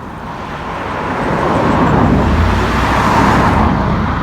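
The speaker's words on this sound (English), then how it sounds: "the car coming. Let me get out of the way." A car on a road passes close by, a loud broadband rush of tires and engine that swells and holds steady without any talking.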